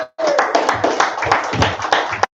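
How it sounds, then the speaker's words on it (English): An audience at a live poetry event in a San Diego venue claps steadily and close by for a couple of seconds, with a voice briefly heard at the start. "A round of applause."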